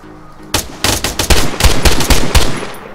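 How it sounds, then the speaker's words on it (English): Gunfire in the survival video game DayZ: loud, close bursts of rapid automatic shots ring out after a brief quiet start, repeating in uneven clusters for a couple of seconds. "Sounds like somebody on the hill shooting at them"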